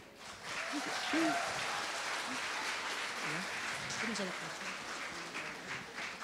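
Audience at a teachers' convention gives warm, sustained applause after a speaker's talk, a dense crowd of claps holding steady throughout with a few faint voices mixed in.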